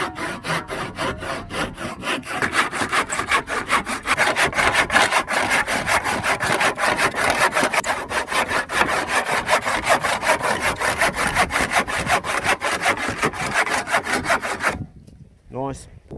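A handsaw cuts steadily through 4x2 timber studs in a woodshed, with fast, even rasping strokes that run loud and close for a long stretch before stopping abruptly.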